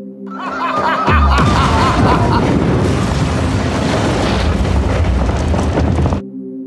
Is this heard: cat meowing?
no